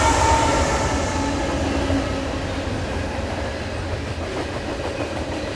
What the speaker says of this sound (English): It's a freight. Freight train.